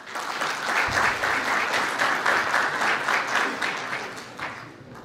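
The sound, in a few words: audience applause welcoming a speaker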